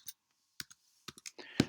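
Numbers tapped out on a computer keyboard while a formula is entered in an Excel spreadsheet, a few quick separate keystrokes followed by a denser burst of clicks, close and fairly quiet.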